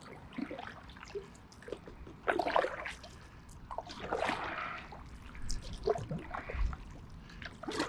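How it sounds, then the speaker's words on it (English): Paddle strokes from a Bluewave Glider drop-stitch inflatable kayak on a canal, close irregular splashes and trickling drips rising and falling over several strokes, no voices. "I will put a few strokes to the paddle in and you can see how well it turns"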